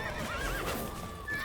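Horses neighing and galloping in The Witcher 3, with loud whinnies rising and falling over a steady clip-clop of hooves and a rumbling in-game soundscape, close and prominent.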